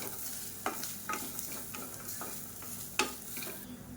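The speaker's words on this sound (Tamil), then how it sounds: "இதையும் சேர்த்து நல்லா வறுத்துக்கலாம்." Grated coconut is stirred and roasted in a pan, with a soft dry sizzle under repeated scraping strokes of a spoon, one sharper knock near the end, close up with no talking.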